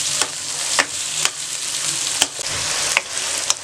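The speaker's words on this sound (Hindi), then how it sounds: "अब आपने तकरीबन 2 से 3 मिनट के लिए चिकन को फ्राई करना है। फुल फ्लेम रखें आप।" Chicken pieces frying over a full flame in a pan, with a dense steady sizzle throughout and a few sharp scraping stirs at regular intervals. The sound is close and loud, with no talking.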